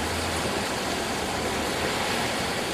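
Soliton waves roll up the River Carron at Stonehaven, Scotland, heard as a steady, broad wash of rushing water without pause, loud and close, with no voices.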